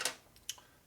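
A wrench fitted with an extension clicks a few times while working on a Harley S&S 113ci Evo motor, giving two or three faint, sharp ticks close by in under a second.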